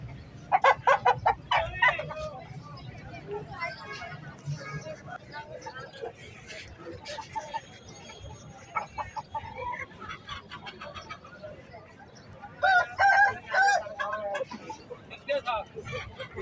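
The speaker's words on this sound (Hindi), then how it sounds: "ये मुर्गा जागीरी नस्ल का, आप देख सकते हैं।" A Jagiri-breed aseel rooster crows loudly twice, near, with clucking between, while someone talks over it at a rooster market.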